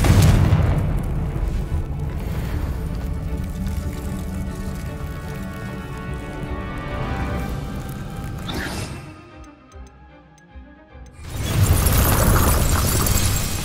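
In the video game Hogwarts Legacy, a Confringo spell blasts a wall with a loud, deep booming explosion followed by rumbling debris that fades to near quiet before a second heavy burst of noise.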